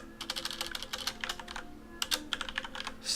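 Typing on a computer keyboard while working through a Python coding tutorial: two quick bursts of close, crisp key clicks separated by a brief pause, quiet and with no talking.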